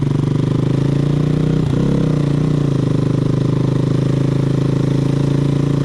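A Simson 100cc moped engine with engine damage runs steadily at high revs, loud and close, with a brief throttle dip midway before settling back into a constant buzzing drone.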